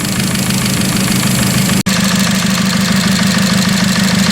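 An engine running with brake fluid added to it, producing a steady close idle-to-rev drone with light chatter, clatter and rattling, broken by one sharp instant cut near the middle.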